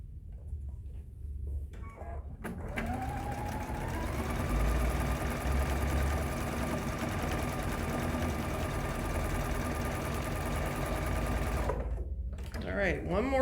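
A sewing machine stitches a star table runner in one long, steady, loud run of fast whirring after a short quiet start, stopping near the end, with a voice talking around it.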